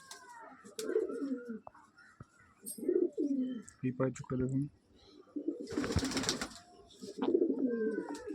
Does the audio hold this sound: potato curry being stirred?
no